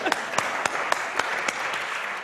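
Festival audience at a book event clapping, a steady wash of many hands with a few sharper distinct claps standing out at roughly regular intervals, moderately loud.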